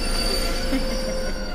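Train wheels squeal on the rails in the animated series The Legend of Korra: a loud, steady, high metallic screech with a low rumble beneath, lasting the whole moment.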